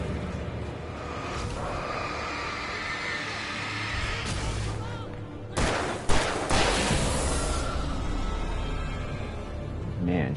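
Rapid gunfire in Alan Wake crackles in dense bursts, building to a sharp, loud volley past the midpoint and continuing as sustained shooting over a busy background.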